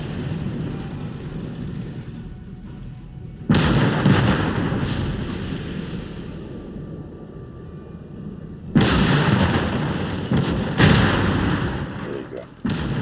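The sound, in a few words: mortar firing in the video game Call to Arms Gates of Hell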